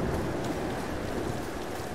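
Constant rainfall in the Tomb Raider Definitive Edition game, an even broadband hiss with faint low rumble underneath, steady and moderately quiet throughout, no voices.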